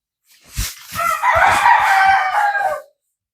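A rooster named Boston crows once, loud and close, a long drawn-out call lasting a couple of seconds that stands alone with no talk over it.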